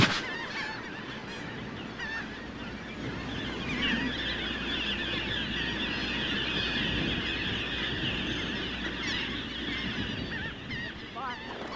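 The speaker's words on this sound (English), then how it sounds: "After a wait, the red knots return and begin feeding." Red knot shorebirds call on a beach as they return to feed, a dense, continuous chorus of overlapping honking and piping cries from a flock at moderate distance.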